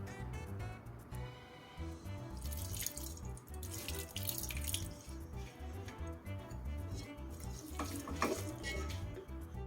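Lime juice trickles and drips into a spicy, sour Isan-style dory fish salad, a faint, continuous splashing stream with no talk.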